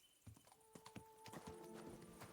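Rhythmic clip-clop of horse hooves trotting in Kingdom Come: Deliverance II, light and close, with a brief whinny mixed in and some faint tonal game sounds, no talking.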